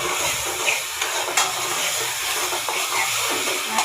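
Masala spices frying in a pan for a curry, a constant loud hiss and sizzle close up with a few faint scraping knocks, and no talking.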